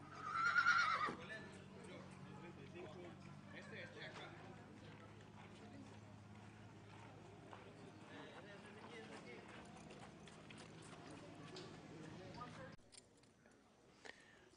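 A horse whinnies loudly at the start while being led at a Lexington, Kentucky sale, followed by steady hoof clops and background crowd noise, with people talking throughout.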